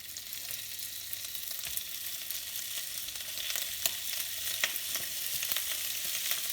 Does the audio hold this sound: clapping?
no